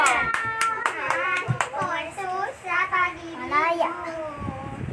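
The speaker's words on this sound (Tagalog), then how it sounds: "sige, palakpak muna kayo." A small group, children among them, claps together in a home, a burst of hand claps mixed with cheerful chatter and children's voices throughout.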